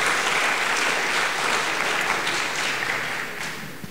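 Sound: audience applause

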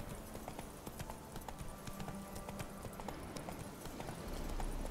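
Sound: horse hooves galloping in video game The Witcher 3

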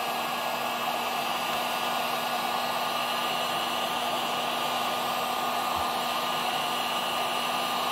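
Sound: heat gun heating a chainsaw kit crankcase

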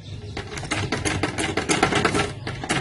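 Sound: sewing machine stitching fabric neck design

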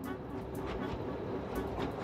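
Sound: train, rail bus crossing the Andes

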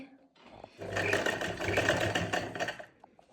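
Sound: sewing machine stitching finishing strip on dupatta

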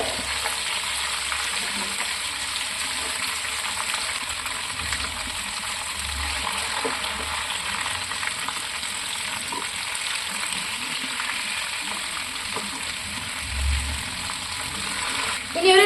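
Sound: chicken frying in a pan, being turned over

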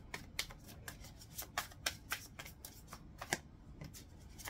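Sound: shuffling tarot cards

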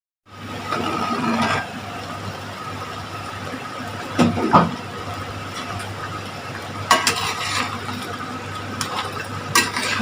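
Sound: mutton korma simmering and being stirred in a pot

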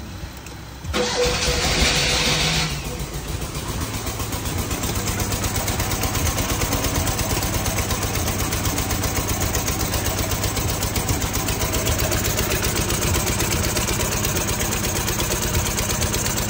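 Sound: car engine starting and idling

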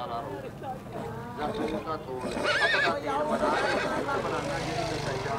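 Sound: horse neighing

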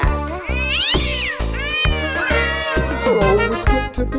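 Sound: cat meowing

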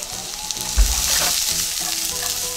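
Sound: stir-frying bean sprouts with onion and garlic in a pan

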